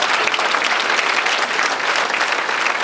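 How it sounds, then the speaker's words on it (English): Sustained audience applause fills the room at a Regina chamber of commerce gathering, dense and steady from start to finish with no speech over it. "Big round of applause."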